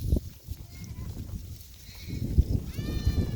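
A ram and a ewe bleat on a woodland walk in Warsaw, their wavering calls close against a rough, rumbling outdoor background, with a clearer bleat near the end.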